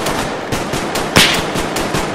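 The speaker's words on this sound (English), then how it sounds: "are you under fire?" Gunfire in the military video game Arma 3: rapid, regular cracks of automatic fire at close range with one louder shot partway through, no voices.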